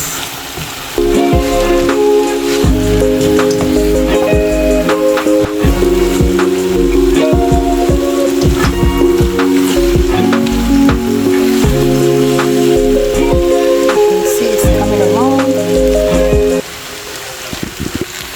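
Shrimp lo mein noodles with vegetables and teriyaki sauce frying and being stirred in a hot pan, a loud continuous sizzle with scraping and clinking of the utensil against the pan, ending abruptly near the end.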